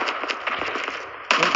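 Gunfire in the mobile shooter Call of Duty Mobile rattles off as a rapid string of sharp, crackling shots, then turns louder and denser in a final burst.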